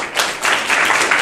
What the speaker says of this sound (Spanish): un aplauso muy grande para Diego.